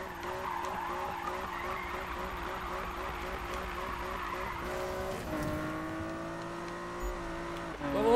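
A car in Need for Speed slides under the handbrake with a steady, loud engine roar and tire skid, the engine tone dropping and shifting after a few seconds, and a voice talks briefly over it.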